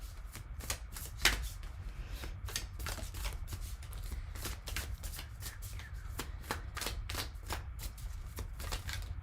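A deck of oracle cards is shuffled over and over, giving a steady stream of crisp, close riffling snaps and flutters that runs for about nine seconds with no voices.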